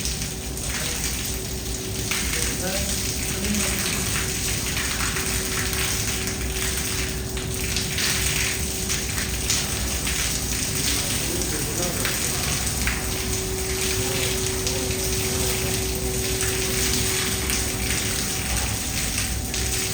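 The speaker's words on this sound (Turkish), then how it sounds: "Su atacağız içine." Water spraying into an air conditioner unit that is not cooling, a steady hissing wash with spattering, continuous and close throughout.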